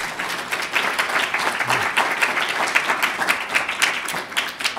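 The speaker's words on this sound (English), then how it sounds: "Let's give him another round of applause." An audience in a lecture room at an evening talk on cancer gives steady, dense applause that holds at an even level throughout.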